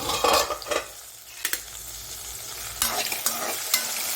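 Green chillies being stir-fried in a pan for chilli thecha, giving bursts of stirring and scraping over a low sizzle, with a quieter gap in the middle before the scraping picks up again.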